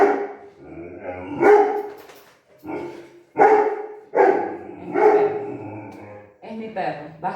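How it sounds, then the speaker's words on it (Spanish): A pet dog barks in several short bursts close to the microphone, loud and repeated across the stretch, with a person talking in between and over the barks. "Es mi perro. Basta que yo me ponga a ver una clase para que le empiece a ladrar."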